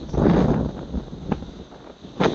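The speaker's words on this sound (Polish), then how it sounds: "Zapierdala wiatr" Strong wind buffets the microphone by the sea, a loud continuous roar with gusty swells and brief sharper blasts, with no speech.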